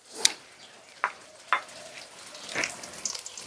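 Onions fry in oil on a clay stove, a soft sizzle under a few sharp stirring clinks and scrapes, close and fairly quiet, with no talk.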